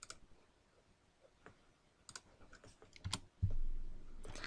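Short run of keystrokes on a computer keyboard, a few scattered light clicks followed by a quicker cluster, close and quiet, ending in a soft thump.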